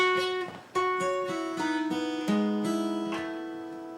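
Clean guitar picking out single notes one after another, each ringing into the next, with a slide up near the end; no voices.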